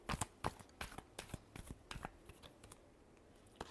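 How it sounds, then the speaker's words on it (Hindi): A tarot deck is shuffled by hand in quick, crisp riffles and taps, a close, quiet sequence of irregular card slaps over a few seconds. "Last shuffle."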